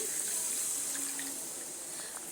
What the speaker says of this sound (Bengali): সেই মিক্সিং জার ধুয়ে এখানে পানিটা আমি অ্যাড করছি